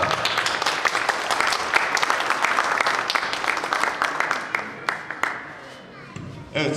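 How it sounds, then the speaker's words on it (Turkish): Applause and clapping from the audience at an award ceremony of an international draughts championship in Tire, steady and dense for most of the span before thinning out near the end, with faint voices beneath. "Alkışlıyoruz, tebrik ediyoruz."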